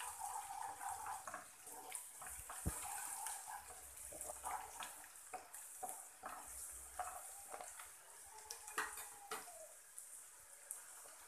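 Drumstick pieces fry in a pan with ginger garlic paste for a tomato curry, giving a close, continuous sizzle and hiss broken by a few clinks and stirring scrapes.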